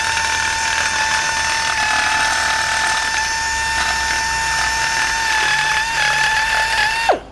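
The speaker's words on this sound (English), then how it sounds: "We'll grind that the rest of the way" An angle grinder trims steel on a rusty 1962 Chevy C10 pickup, a loud, steady high whine held for about seven seconds before it cuts off and spins down.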